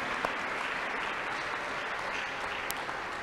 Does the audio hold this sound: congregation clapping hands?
yes